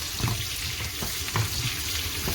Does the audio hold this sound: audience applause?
no